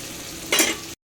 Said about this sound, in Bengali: ফুলকপি আলু ভাজা সহযোগে চুনো মাছ খাওয়া হবে এটাই ভাজা হচ্ছে এখন